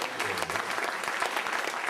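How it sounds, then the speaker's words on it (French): Steady applause fills a public meeting hall as a town audience claps together for the assembled figures, a dense, even roar of many hands that holds for the whole moment without letup. "vous pouvez faire un applaudissement global si vous voulez"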